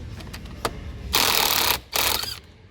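A ratcheting socket wrench with a 12-point 21mm socket loosens the steering wheel nut on a Mazda CX-3, giving a few quick clicks followed by two bursts of rapid close ratcheting.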